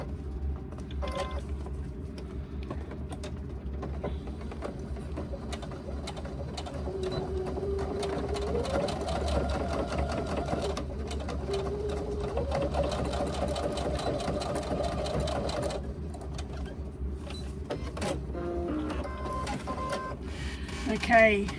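A sewing machine hums and rattles in long continuous runs, stitching a 3/8 inch seam on a laptop bag, with brief pauses and some handling noise between stretches.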